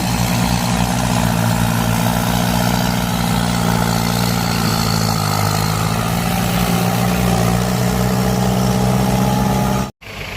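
Diesel engines of an excavator and a tractor run at a land-filling site, a loud, close, continuous rumbling drone with a steady low hum throughout, cutting out abruptly near the end.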